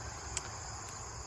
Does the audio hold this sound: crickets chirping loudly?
yes